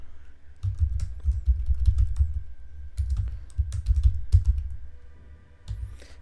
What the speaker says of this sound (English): let me type this, like any text